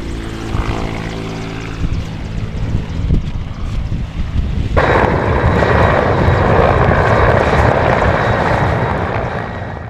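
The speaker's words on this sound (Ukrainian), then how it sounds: "ви бачите, як зараз вертоліт відправляється до інституту Мєчнікова у Дніпропетровську" A helicopter's rotor and engine build into a loud, steady roar, with an abrupt jump in intensity halfway through as it powers up and takes off, close by, in Berdiansk, Ukraine.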